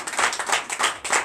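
Church congregation clapping and cheering during a Sunday service in Comè, Benin, a brief burst of lively applause at moderate distance.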